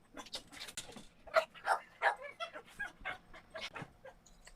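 A dog yips and whimpers in short, fairly faint bursts close by during a casual podcast-style conversation, the small barks coming in a rough rhythm through the room.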